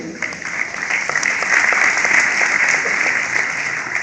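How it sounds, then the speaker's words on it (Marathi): A crowd at a school Shiv Jayanti event claps steadily and loudly for a few seconds, a dense, continuous patter of applause. "एकदा आपण साक्षीसाठी जोरदार टाळ्या वाजवून तिचं कौतुक करूया."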